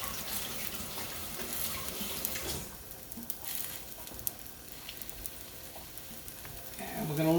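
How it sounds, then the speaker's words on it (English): Chicken pieces sautéing in a pan for chicken alfredo, a soft continuous sizzle and frying hiss with occasional light clinks and stirring, no one talking. "we're going to saute this until they're about about halfway done"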